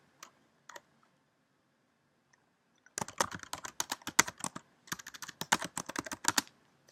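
A folder name is typed on a computer keyboard: a few isolated key clicks, then two rapid bursts of close, crisp keystrokes with no talking.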